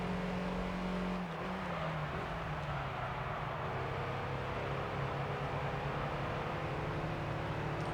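In Gran Turismo 3: A-Spec's Clubman Cup, a racing car's engine holds at full throttle as a loud, steady drone that dips briefly in pitch early on, then carries on alone.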